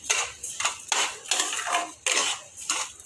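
A spoon scrapes steadily around a pan of semolina sheera, giving repeated rhythmic metallic strokes, close and fairly loud, with no one talking.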